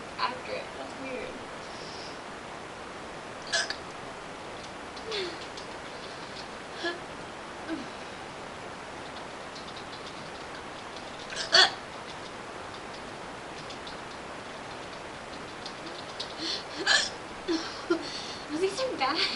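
Hiccups from one person pop out as short, sharp bursts at irregular intervals, several of them scattered over a quiet background, with a few louder ones later.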